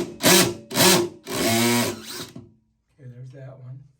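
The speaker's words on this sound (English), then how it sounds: "And then I just got to put my my driver on reverse." A Ryobi 18V power driver set to reverse backs screws out of a shower drain, making two short whirring bursts and then a longer one, close and fairly loud, followed by quieter handling noise.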